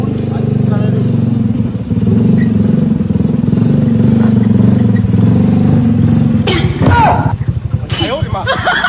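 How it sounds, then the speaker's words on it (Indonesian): A motorbike engine idles and revs close by, a steady loud drone with surges, while people talk and shout over it, ending in clattering movement. "Hei, motor aing."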